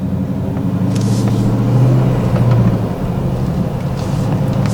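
A car engine pulls away smoothly without stalling, a close low rumble that swells as it gains revs around the middle and then settles back to a steady drone, with no voices.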